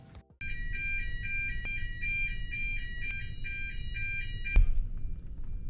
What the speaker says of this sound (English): So that sound was the watertight doors closing,